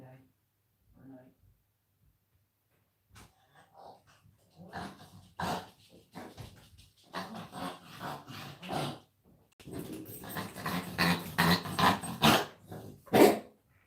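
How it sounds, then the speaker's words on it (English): A pet dog, worked up by fireworks, growls and barks at a house door in bursts that grow denser and louder toward the end, with voices talking alongside. "My dog's scratching the door."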